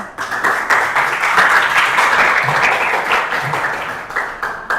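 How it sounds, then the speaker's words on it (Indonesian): Classroom applause from a group of students, steady dense clapping sustained for several seconds, fairly close and loud, with no talking over it. "Tepuk tangan dulu."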